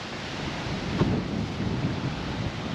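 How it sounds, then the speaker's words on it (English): Strong wind sweeps across a coastal clifftop above St Peter Port, Guernsey, buffeting the microphone with a continuous rushing roar and a few heavier gusts. "So windy."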